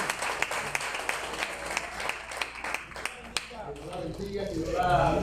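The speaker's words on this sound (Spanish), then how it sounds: "denle un fuerte aplauso al Señor." A church congregation applauds to honour a member's birthday, with dense clapping mixed with voices and cheering, and a voice rising toward the end.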